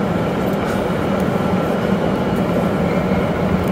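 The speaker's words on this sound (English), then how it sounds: "my train is already here, so I'm just going to board it." Steady low rumble of a train idling at a platform at Venice's Santa Lucia station, a continuous hum with faint station ambience and no voices.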